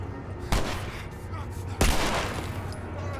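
Two loud gunshots from The Last of Us Remastered, roughly a second apart, each ringing out with a long decaying tail over a low rumbling game background.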